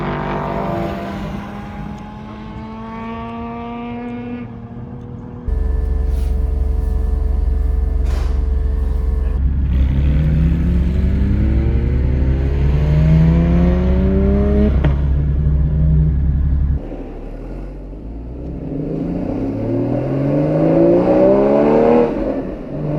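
A GT4 sports car drives on the road toward the track, its engine droning loudly and rising through repeated gear pulls with climbing pitch, steady road roar underneath and no talk.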